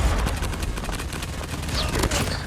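Rapid automatic fire from an M4 rifle in the mobile shooter Call of Duty Mobile, a dense, loud stream of shots that runs unbroken for the whole stretch, with no talking.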